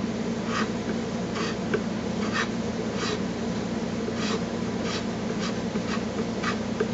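Pencil or marker drawing on a gray Remington 597 gunstock being dressed, a run of regular scratchy strokes repeating about every half second, close and steady over a constant background hiss, no speech.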